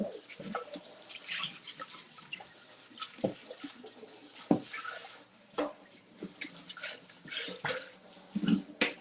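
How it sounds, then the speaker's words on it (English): A dish rinsed under a running kitchen tap while cooking two-ingredient banana pancakes, with a steady stream of water splashing and clattering irregularly, close and fairly quiet, with no talk. "Let me go ahead and rinse this out."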